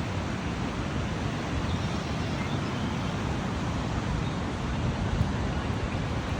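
The St. Lawrence River rushes by in a constant broadband roar, wind gusting against the microphone, loud and unbroken with no talk.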